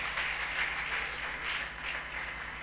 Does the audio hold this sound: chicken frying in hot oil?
no